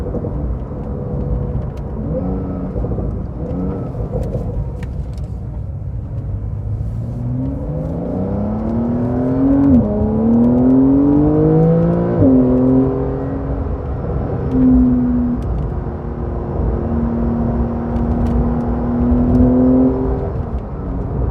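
A 2020 Porsche 911 Carrera 4S engine revs and accelerates loudly, its rising and falling drone echoing off a nearby wall, steady and close with no talk.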